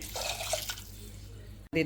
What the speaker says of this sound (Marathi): याच्यात ही मी पाणी घालून घेते